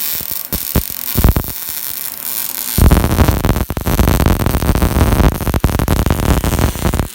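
Welding on a two-tier dump body for a Toyota Hilux Tiger pickup in a truck body shop: a few sharp clicks, then steady loud crackling static-like buzz that runs without a break to the end.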